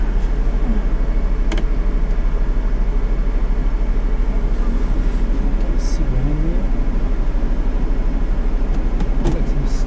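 A 1985 Suzuki Every with its 550cc engine and five-speed gearbox drones steadily through a test drive, the small motor's hum and road noise continuous and fairly loud for the whole stretch, with no talk over it.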